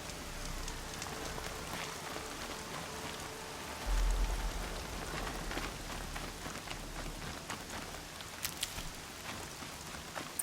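Steady rain in Horizon Zero Dawn falls in an even, hissing patter with scattered drops landing on the ground, as a dense, continuous wash with no speech over it.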